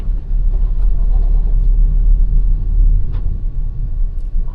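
A cargo truck drives along a road, a steady loud low rumble of engine and tires close by with no talk.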